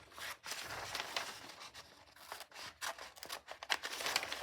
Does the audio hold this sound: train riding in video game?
no